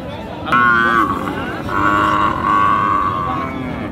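A cow lets out a couple of drawn-out moos nearby at a cattle market, with a busy outdoor background hum of people and activity.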